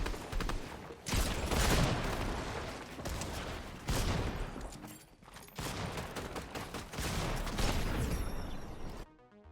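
Sustained bursts of rapid video game gunfire from a competitive shooter, dense spraying volleys separated by short pauses, loud and continuous with mechanical clicks at the end.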